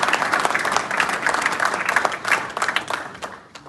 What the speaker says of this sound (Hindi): एक बार पहले सारे भाई एक बार नीरज भाई के लिए ताली मार देते हैं।